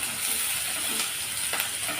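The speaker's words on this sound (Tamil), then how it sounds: "இப்போ இதெல்லாம் நல்லா வதக்கி விட்டுறலாம்" Steady sizzling from onions and curry leaves sautéing in a hot pan, a continuous crackling hiss with an occasional stir, close and even in volume.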